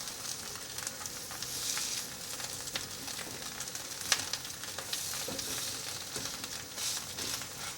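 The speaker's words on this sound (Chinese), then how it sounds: "继续煎" A sweet potato and carrot patty pan-frying in a skillet gives a steady, close sizzle with soft crackles and occasional sharper pops, running throughout with no talking.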